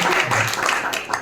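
An audience claps at a Jain religious seminar in Ponnurmalai, giving a brief burst of dense, steady applause from many hands.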